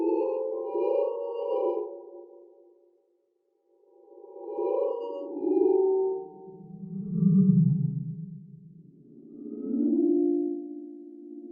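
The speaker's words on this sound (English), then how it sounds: "As a result, I now had a complex ghostly sound for Ghost, which was built from only 2 original sound effects." Ghostly voice effect built from reversed reverb, slow swelling moans that rise and fade in several separate waves with brief silences between, soft and eerie with no talking.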